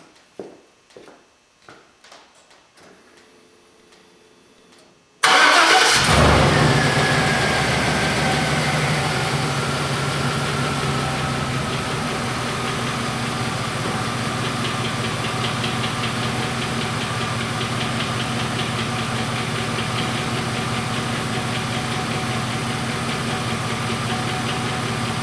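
A car engine with new fuel injectors on bank 2 cranks and fires after a few soft clicks, then settles into a loud, steady idle that continues alone to the end.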